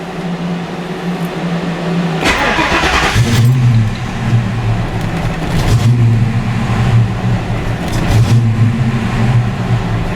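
A Fox Body Mustang engine with a possible coolant temperature sensor or injector fault, not fully warmed up, cranks and catches, then idles with a steady low rumble and a few revving swells. It is close and loud, with no talk.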